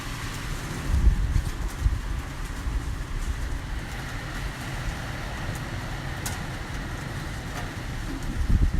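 Strong typhoon wind buffets a hotel building in Tokyo, a loud, continuous roaring rumble with gusting swells that never lets up.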